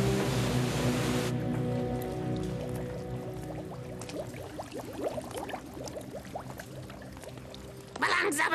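Water running from a tap in a cartoon, a gushing pour that switches on suddenly, then continues as splashing and dripping, with speech over it and a burst of louder sound at the end.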